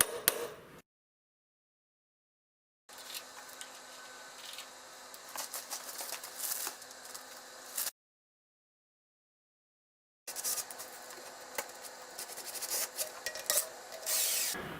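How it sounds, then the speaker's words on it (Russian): A conical reamer rasps steadily as it widens a pin hole in a metal machine-tool panel on a 3G71M grinder, producing close, dry scraping strokes in two long bursts separated by silence. "Нужно взять коническую развертку и слегка развернуть дополнительное отверстие"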